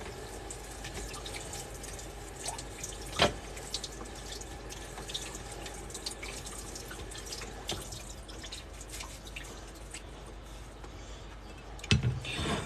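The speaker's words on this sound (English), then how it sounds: "So now I'm going to rinse this with cold water just to get some of the drifting off" Cold tap water runs steadily over rose petals being rinsed in a sink, a soft continuous trickle with occasional drips and splashes and a couple of sharper knocks, fairly quiet and with no talking.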